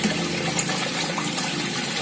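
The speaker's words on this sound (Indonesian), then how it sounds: "Masih proses pengisian air kelapa." Coconut water pours steadily into a container as part of mixing liquid organic fertilizer, a continuous close gushing wash with no pauses and no talk.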